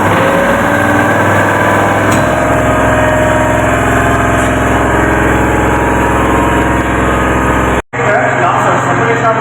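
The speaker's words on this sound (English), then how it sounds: "Now we are going to switch on the supply. And the motor is started by 3-point starter." An electric motor, switched on through a 3-point starter, runs in a single-phase transformer lab test with a loud, steady hum, briefly cut by one sharp dropout near the end.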